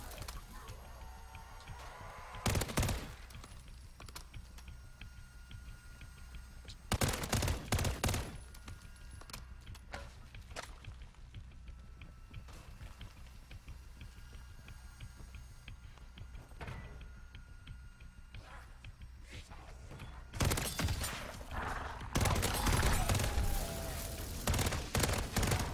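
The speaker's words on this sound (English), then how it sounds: "I'm running around with an SMG that's got 200 bullets in a clip" Submachine gun fire in the Modern Warfare III Zombies game mode, an SMG with a 200-round magazine, coming in loud sustained bursts separated by quieter stretches of game ambience.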